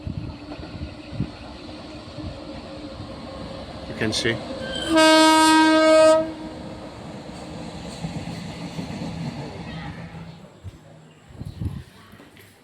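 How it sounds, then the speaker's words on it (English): A goods train passes with a rumbling roll, and its loud horn sounds one sustained blast midway. Someone speaks briefly over the passing train. "So guys, you can see another train coming from that side. That's not a passenger train, goods carrier."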